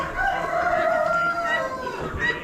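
Roosters crowing from crates at a poultry auction, several overlapping calls held steady and close, with a busy barn murmur underneath.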